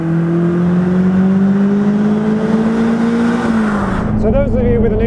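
Caterham 310 S sports car engine droning loudly and steadily from on board, pitch rising slowly as it accelerates before dropping with a gear change or lift-off near the end.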